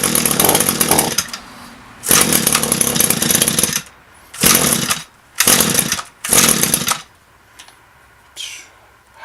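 An Echo string trimmer fitted with a knock-off carburetor fires up in loud close bursts, revving for a second or two at a time and cutting out between runs, ending in faint sputters.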